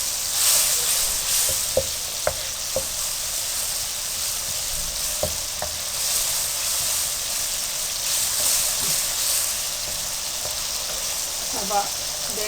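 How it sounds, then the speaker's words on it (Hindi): Spiced masala for Punjabi dal chana sizzling steadily in oil, a continuous close frying hiss with a few faint stirring clicks scattered through. "अब आप देखते हैं मसाला भून गया, ऑयल इसमें निकल आया है।"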